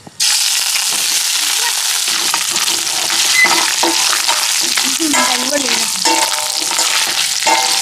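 Loud, steady sizzling of ginger-garlic paste frying in hot oil starts abruptly and continues throughout, with occasional scraping from stirring and faint voices underneath.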